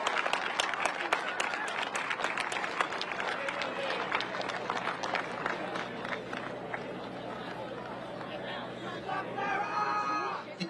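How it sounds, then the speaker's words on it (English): At a 2023 Division II cross country championship awards ceremony, a crowd applauds the women's 6K champion, scattered claps and cheering mixed with chatter over steady background noise. "Give her a nice round of applause."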